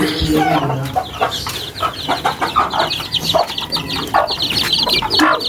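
A mother hen with newly hatched chicks clucks repeatedly in short, busy bursts, close by, with other poultry sounds mixed in around her.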